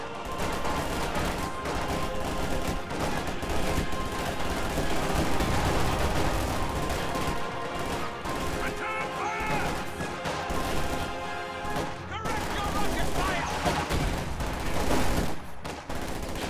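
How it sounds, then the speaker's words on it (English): Grenades and gunfire fill a World War II strategy video game battle, a dense continuous barrage of crashes, bursts and explosions that stays loud throughout with no voices. "Infiltration and grenades being thrown on those shock troops."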